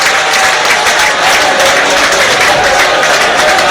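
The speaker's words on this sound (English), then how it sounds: "And those fans in front of us will applaud." Stadium fans applaud at a Liechtenstein vs Wales football match, a loud, sustained wash of clapping from many hands that stays dense and steady throughout.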